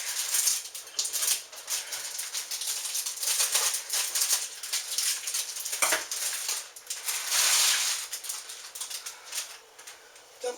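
Pennsylvania Dutch pot pie squares of dough dropped into chicken stock, a run of irregular soft splashes and clattering taps that rise and fall, fairly close, with no talking.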